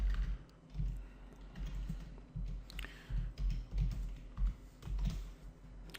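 Typing on a computer keyboard while writing PHP code, a close run of soft, uneven key clicks in quick bursts and short pauses, with no talking.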